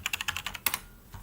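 Rapid keystrokes on a worn, grimy computer keyboard: about eight quick, close clicks in a steady run, then one sharper press and a short pause before a final faint tap. No voices.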